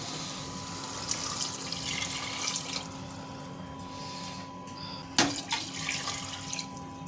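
Two pots of water run and splash steadily into a cooking pot while making tomato rice, at moderate volume, with a single sharp clink partway through.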